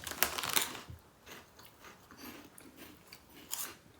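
Someone chews soft, corn-based cheese flavoured crisps close to the microphone, a burst of crunchy bites at first followed by quieter irregular munching, with no talking.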